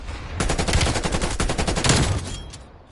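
A loud, rapid burst of automatic gunfire in Call of Duty, a dense rattling stream of shots lasting about two seconds before tapering off.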